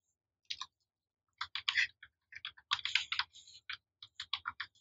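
Someone types on a computer keyboard in a quiet room, with quick bursts of crisp, close key clicks separated by short pauses and uneven rhythm.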